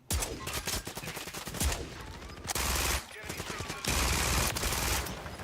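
Sustained automatic gunfire from a Call of Duty: Modern Warfare 3 match, loud dense bursts of rapid shots with brief pauses, sprayed continuously across the whole stretch.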